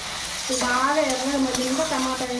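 Ginger and tomato dropped into a hot frying pan, sizzling steadily and close with stirring, while a voice talks over it.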